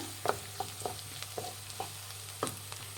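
Cooked rice and half-cooked vegetables fry in a pan for hotel-style veg fried rice, a soft continuous sizzle broken by several sharp scrapes and clinks of a spatula stirring at irregular intervals, close and without talk.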